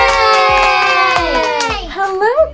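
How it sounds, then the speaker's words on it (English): A group of first graders lets out a long, loud shared cheer with bright voices that hold and then waver and break up, with a few soft thumps that may be claps under it. "Let's give her a round of applause."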